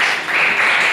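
Steady applause from a classroom audience during a civics class session, a short, dense burst of clapping at close range.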